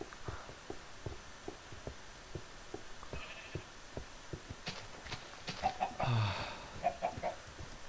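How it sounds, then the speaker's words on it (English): Chickens cluck in a Minecraft game world, scattered short clucks and bird calls coming in bursts over a steady rhythmic tapping of footsteps, moderately quiet, with a busier cluster of calls near the end. "Chickens."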